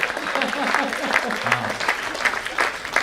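An audience claps at a live spoken-word gathering, scattered bursts of applause running through the moment under a nearby voice speaking.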